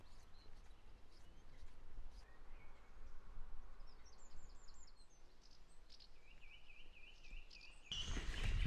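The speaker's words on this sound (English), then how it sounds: "Song thrush, blackbird, robin, wren, they're all going for it." Song thrush, blackbird, robin and wren sing in the countryside of the Lake District near Angle Tarn, several faint to moderate overlapping phrases and trills over a soft outdoor background, with a louder rustle at the end.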